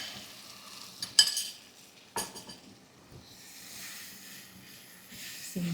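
Rajma masala gets stirred in a pan with a spoon, giving a soft, faint scraping and gentle bubbling sizzle, with a couple of sharper clinks of utensil against metal.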